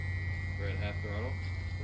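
An electric motor for a small UAV runs steadily at half throttle, a close, continuous low hum with a faint high whine, while a voice talks briefly over it.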